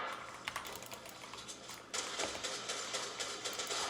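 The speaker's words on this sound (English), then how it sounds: "the keyboard is definitely louder than I expected now" Fast typing on a mechanical keyboard with red switches, part of a budget gaming setup: a steady patter of close, light key clicks that grows louder and denser midway through.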